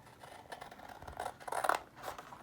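Scissors trim the corners off journal paper in a few quick snipping cuts with light scraping of the paper, close and fairly soft, with no voices.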